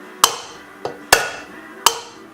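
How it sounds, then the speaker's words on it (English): Four sharp metallic hammer taps on top of an engine valve during cylinder head assembly with valve springs fitted, loud and close, spaced irregularly with brief ringing decay and no talk. "I always take a hammer and just hit on top the valve just real quick"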